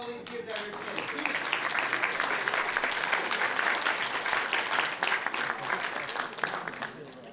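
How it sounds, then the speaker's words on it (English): Applause from attendees at a Sacramento city council meeting honoring a group of kids, a steady, dense round of clapping that holds throughout with a few louder claps near the end. "Big round of applause for all these kids out here today."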